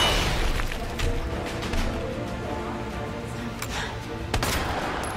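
A flashbang grenade in the video game Resident Evil 2 bursts amid faint game noise, with a few sharp cracks and one louder blast near the end, all fairly quiet.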